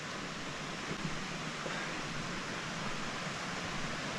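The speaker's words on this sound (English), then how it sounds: "This is the Craig Creek" Craig Creek on the Colorado Trail runs through aspen woodland with a steady, even rush of flowing water, close and constant with no voices.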